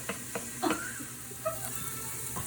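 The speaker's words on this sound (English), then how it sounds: "We're browning the onions and the garlic in the olive oil." Onions and garlic browning in olive oil in a pan, giving a steady hiss of sizzling with a few soft clinks and stirring scrapes, close and moderately loud, with no talking.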